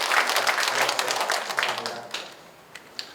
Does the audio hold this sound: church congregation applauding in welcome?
yes